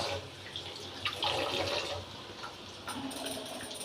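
Tap water running into a sink while spinach is washed, a steady splashing rush with brief surges and small clatters near the end.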